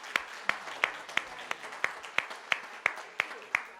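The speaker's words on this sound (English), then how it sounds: "now we can clap" A few people in a church congregation clap slowly and steadily, about ten evenly spaced claps in a thin, sparse rhythm close by.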